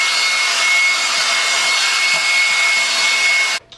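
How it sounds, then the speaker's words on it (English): A handheld blow dryer set to warm on high speed runs with a steady loud whoosh of air, then switches off abruptly near the end. "this is my blow dryer. I'll put it on warm. And then I'm going to put it on high speed."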